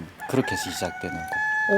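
A rooster crows at the opening of a song, the crowing rising and falling among other clucking and fowl calls, with a voice talking over it.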